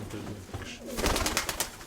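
A pigeon coos close by, a short run of soft low throaty calls over background noise, without talking.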